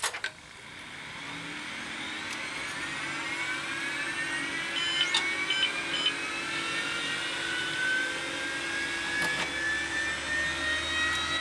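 Dual Pentium Pro desktop PC from 1997 whirs as its fans spin up, a rising airy whine with high tonal lines that climb in pitch and then hold steady, with no talking.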